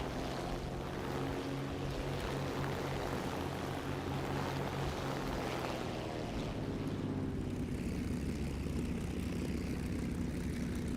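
A P-38 propeller fighter flying at high altitude in War Thunder, a loud, continuous engine drone with a steady whooshing roar that shifts slightly in tone partway through, with no talk.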